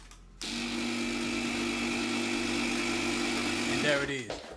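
Portable air compressor powered from a portable power station, starting abruptly and holding a loud, steady motor hum with a buzzing whine, close up, then cutting out near the end.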